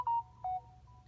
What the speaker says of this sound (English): Phone beeped that is sending power to a device